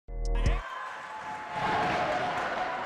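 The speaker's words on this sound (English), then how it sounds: "There's the crowd noise coming into effect, folks." Crowd at a high school girls' bi-district basketball game in a socially distanced gym, a brief sharp sound at the start and then a steady murmur of cheering that grows a little louder.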